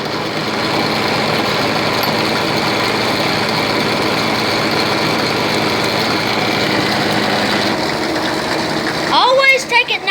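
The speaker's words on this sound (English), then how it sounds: "all you got to do is just flip it on and lubricate it" A drill press runs steadily with a continuous motor hum and whine, close and loud, ending in a short burst of clattering as it is handled.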